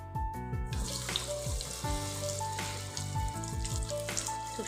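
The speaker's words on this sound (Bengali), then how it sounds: "দেখতে পাচ্ছেন এভাবে আমি 1 বাই 1 করে ভেজে নিচ্ছি।" Ice cream balls deep-frying one by one in hot oil, a steady bubbling sizzle with repeated brief tool clinks and scrapes, close and continuous.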